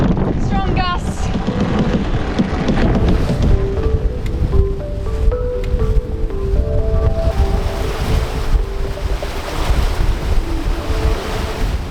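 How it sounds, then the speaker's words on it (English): Strong wind gusts buffet a sailboat under head sail off Western Australia, a steady loud roar of wind noise and rushing water across the whole stretch, with brief tonal flutters and faint voices in the background. "Just getting strong gusts."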